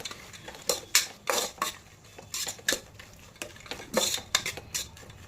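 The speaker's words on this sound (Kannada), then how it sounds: "ಇದು ಒಂದು 2 ಮಿನಿಟ್ಸ್ ಮಿಕ್ಸ್ ಮಾಡ್ಕೊಳ್ಳೋಣ." A spoon stirring soaked avarekalu beans in a metal pan, producing repeated sharp scraping clinks at an irregular rhythm, close and fairly loud, with no talk.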